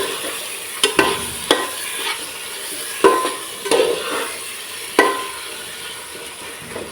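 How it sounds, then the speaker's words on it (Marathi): Chicken pieces frying with chicken masala in a pan for chicken sukka, a soft continuous sizzle punctuated by sharp scraping and stirring knocks of a spoon against the pan at irregular intervals, close up with no talking. "आता हे व्यवस्थित फ्राय करून घेऊया"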